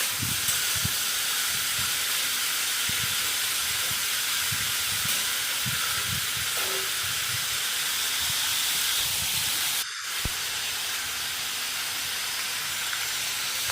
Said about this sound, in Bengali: চলো এটা ভাজা ভাজা হতে থাক